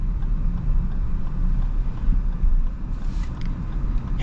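A 2025 Lexus LX 600 F Sport drives over an off-road trail, its steady low engine and road rumble filling the cabin evenly with faint rattles and bumps, no talking.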